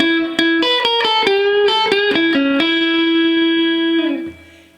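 An electric guitar plays a blues lick over a 12-bar blues in E, with quick bent and picked notes settling onto a long sustained note that fades at the end, heard alone.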